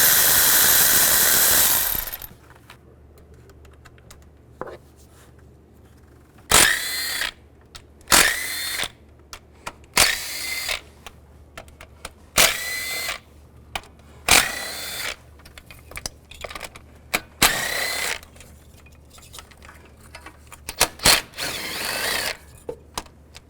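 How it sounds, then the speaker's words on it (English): A 10mm socket on a power tool spins out valve cover bolts on a 2010-2017 Chevy Equinox engine, with a brief loud whir at the start, then repeated short bursts separated by quiet pauses. "You want to take those out using a 10mm socket"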